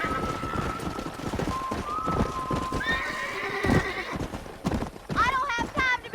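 Horses in the Red Dead Redemption video game: rhythmic hoofbeats of galloping mounts with sharp whinnies and neighs near the end, mixed with game sounds and talking voices.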